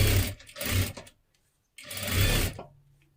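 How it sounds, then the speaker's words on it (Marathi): Sewing machine stitching a double seam on a blouse, two close bursts of fast rhythmic stitching separated by a short pause, loud and alone. "आता परत ह्याच्यावरती आपल्याला एक डबल शिलाई देऊन घ्यायची आहे"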